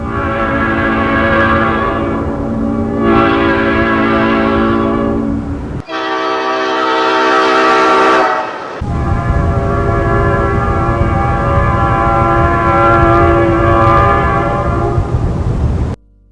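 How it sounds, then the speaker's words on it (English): An Amtrak E60 electric locomotive's Nathan P01235 air horn blasts in long, sustained chords, sounding three times with brief pauses between, loud and close. "The E60 was equipped with a unique Nathan P01235 air horn"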